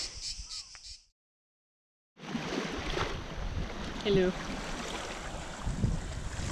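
Sea waves wash against a rocky coast as a broad, steady surf roar that rises suddenly after a short silence and stays close and full. A brief spoken greeting comes before the silence.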